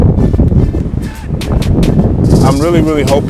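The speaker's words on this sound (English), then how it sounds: "It's kind of windy right here." Gusty wind rumbles and buffets the microphone with a low, steady roar, joined late by faint high bird chirps.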